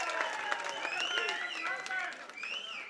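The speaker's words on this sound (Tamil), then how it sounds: "பலமான கரகோஷம் மக்கள் நாயகருக்கு" Crowd at a Tamil film music launch event applauding and cheering, a dense continuous wash of clapping with voices mixed in throughout.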